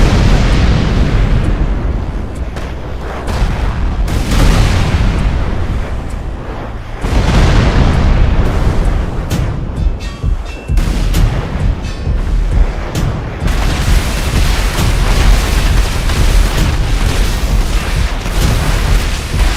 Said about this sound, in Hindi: चलो कुछ धमाका करते हैं